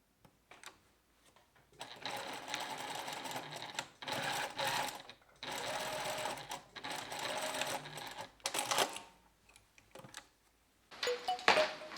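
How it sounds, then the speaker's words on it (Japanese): A sewing machine stitches the side seams of a blouse in bursts, its quick needle chatter starting and stopping several times with short quiet pauses between runs, close and fairly soft. "脇の部分を縫っておきます。"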